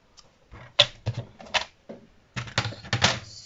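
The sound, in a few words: scoring card stock for a Halloween card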